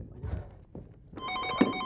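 A telephone bell rings in the second half of the clip, a bright sustained electronic ring heard in a room after some muffled shuffling and movement, with faint talk.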